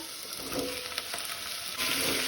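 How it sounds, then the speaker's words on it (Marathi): Prawns and chopped radish frying with onion for a Goan curry, a bright continuous sizzle with soft stirring scrapes, growing a little louder toward the end. "मिक्स करून घेवया, तळसून घेवया।"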